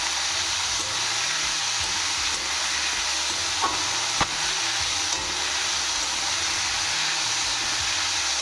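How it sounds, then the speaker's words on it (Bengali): Onions and chopped potatoes fry in a pan while being stirred, giving a continuous close sizzle with occasional soft scraping clicks of the spoon, with no talking. "পেঁয়াজগুলো একটু ভাজা ভাজা হয়ে যাওয়াতেই দিয়ে দেবো এর মধ্যে কেটে কুচিয়ে রাখা আলুগুলোকে।"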